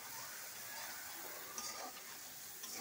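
Masala with chopped boiled potato sautés in a pan, a steady soft hiss of frying with faint scraping stirs over it, continuous and close but low in level.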